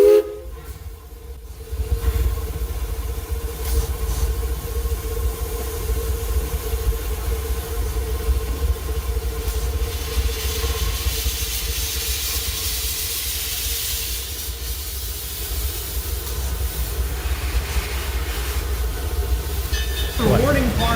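A locomotive shoves back inside the Silver Dollar City train roundhouse on a hot, still day, giving a steady low rumble with a faint hiss and tonal whine that holds from start to finish at close range.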